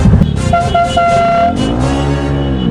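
A loud motorcycle exhaust revs up close, its pitch climbing and then holding in a strained, roaring tone; no voices.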